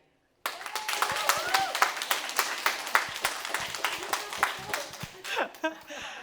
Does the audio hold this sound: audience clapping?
yes